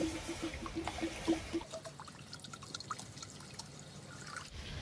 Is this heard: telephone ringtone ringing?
no